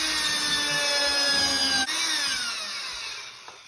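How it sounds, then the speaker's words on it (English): A power drill whines steadily at high speed drilling through wood, then its pitch drops and fades as the motor winds down after the bit breaks through. "You want to drill your second hole here."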